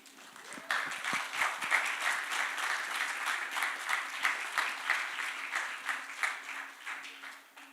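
Audience applause for prize winners at a final pitch session, a steady wash of many hands clapping that swells in after a brief moment and holds fairly evenly, moderately loud, until tapering slightly at the end.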